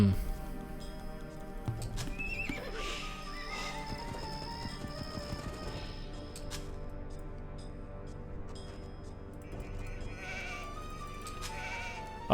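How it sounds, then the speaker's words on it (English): Farm animals in the Age of Empires II strategy game: repeated bleats and whinnies with clip-clopping hooves over a soft music bed, spread across the stretch at moderate loudness. "There already is a sheep."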